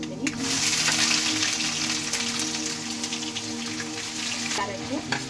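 Onions dropped into hot oil already crackling with mustard seeds, cumin and lentils for rava upma, giving a loud, steady rain-like sizzle that holds throughout with a few light utensil touches.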